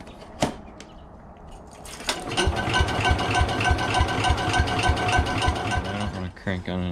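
Tractor engine cranked over on the starter without catching, a steady fast rhythmic churning that runs for several seconds and then stops, close and fairly loud with no talk.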